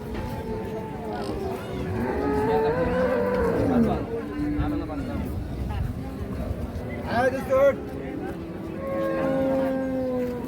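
A Holstein Friesian cow with her calf lets out a couple of moos amid steady chatter from people nearby.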